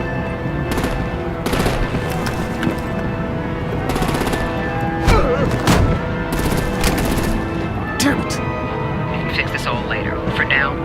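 Video game gunfire and machine-gun bursts from a Batman: The Enemy Within action scene, loud and dense throughout with sharp repeated volleys, mixed with shouting voices and background music.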